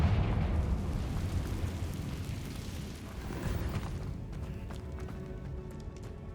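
A Confringo fire spell blast in Hogwarts Legacy, a deep rumbling explosive burst with a heavy low roar that slowly decays into a fainter crackling tail, with no voices over it.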